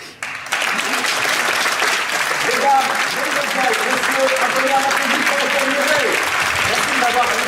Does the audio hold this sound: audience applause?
yes